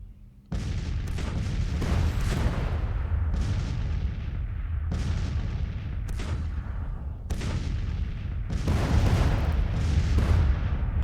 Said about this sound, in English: We are taking a little damage from the artillery